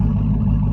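A truck engine idles at a raised speed, a steady, loud, low rumble with a slight rough pulse, heard briefly and alone.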